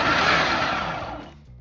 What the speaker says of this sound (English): I got some broccoli in the blender. I'm gonna go ahead and chop it up a little bit.